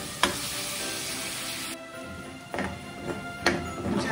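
Bacon fries in a pan, a steady broadband sizzle running throughout, with a few sharper crackles and pops near the start and toward the end, close and fairly loud with no talking.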